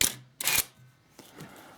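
A Nikon F3 with MD-4 motor drive fires its shutter and winds film, heard as two sharp mechanical bursts close up, each followed by a whirring wind, then a softer click and faint mechanical tail.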